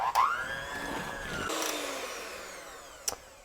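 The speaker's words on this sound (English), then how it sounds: "Now, one more time with the mixer" An electric hand mixer whirs close up as it beats cookie dough with egg and molasses, its motor pitch shifting and easing as the beaters work, then a brief clink near the end.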